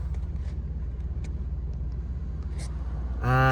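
A Toyota Highlander SUV drives on wintry roads, its engine and tyres giving a steady low rumble inside the cabin, with a brief brighter tonal rise at the end.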